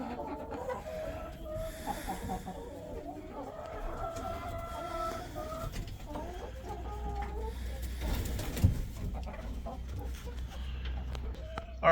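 Chickens roosted in a coop keep up a soft, steady stream of clucks and low murmuring calls, close by and continuous over a dull background hum.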